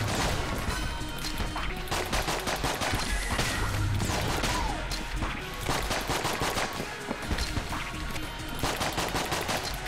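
Dense, chaotic gunfire in the dungeon shooter game Enter the Gungeon, rapid overlapping shots and impacts in a continuous loud barrage throughout.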